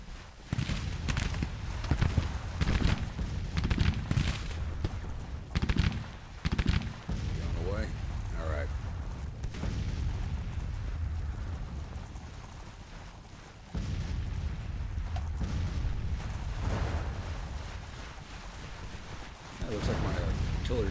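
Cannon fire from an artillery division in a Civil War video game, with repeated heavy booms and gunshot cracks over clopping horse hooves and battlefield noise, while someone talks over much of it.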